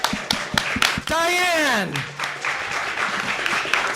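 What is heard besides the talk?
audience applause vote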